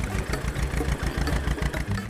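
A tractor engine runs steadily with a chugging, rhythmic mid-range rumble, loud and close, heard alone as the tractor drives across an unfinished road.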